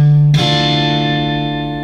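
A single guitar chord from a song lesson is struck and left to ring out unmuted, its strings sustaining loudly and evenly after one bright strum.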